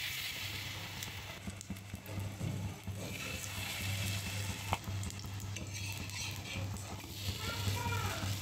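Flower fritters coated in a batter seasoned with salt, turmeric, chili and coriander powder fry in hot oil, making a continuous soft sizzle with occasional stirring clicks while a person talks over it.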